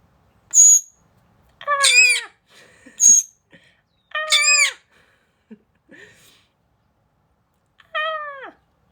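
A pet bird lets out several loud, harmonic screeching calls in short bursts, repeated about five times with brief pauses between them, heard close up and alone.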